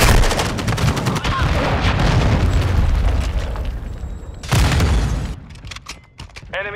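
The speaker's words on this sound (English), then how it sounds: "Friendly cruise missile inbound." In Call of Duty Modern Warfare 2 during a Hardpoint match, a cruise missile strike brings sustained loud explosions and gunfire, a second heavy blast near the end, then quieter game noise.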